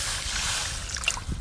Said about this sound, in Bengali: আর একটু জল লাগবে, জল দেব